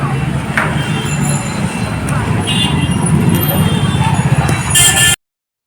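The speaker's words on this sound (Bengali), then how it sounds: "চলো ট্রেনে বসে পড়েছি বসার জায়গাও পেয়ে গেছি ট্রেনে" A passenger train runs along the rails with a steady, loud rumble and rattle of wheels from inside the carriage, faint squeals breaking through, while people talk nearby.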